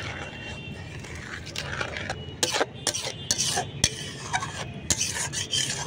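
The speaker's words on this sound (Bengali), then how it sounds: "আমি এইভাবে নাড়তে নাড়তে একটা ডো বানিয়ে নেব" Rice and milk stirred by hand into a dough for rice sandesh, giving close scraping and rasping strokes of a spoon against the pan in an irregular rhythm, with a faint sizzle underneath and no talk.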